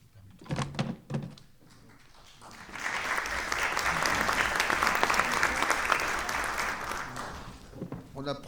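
At a lecture on Chartres architecture, a few spoken words give way to a sustained round of audience clapping that swells, holds for several seconds and fades as a voice resumes.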